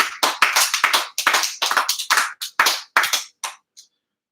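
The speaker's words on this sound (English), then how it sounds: "please join me in giving a round of applause our special recognition winner" Sparse applause at a high school band awards banquet for a special recognition winner: a handful of people clap in distinct bursts that thin out and stop within a few seconds.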